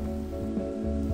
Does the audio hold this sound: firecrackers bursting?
no